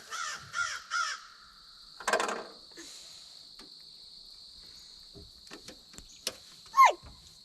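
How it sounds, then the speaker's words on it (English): Crows caw outdoors in three quick harsh calls, then another caw shortly after, over a constant high cricket chirring, with scattered clicks and a squeak near the end. "Crow. Those are crows."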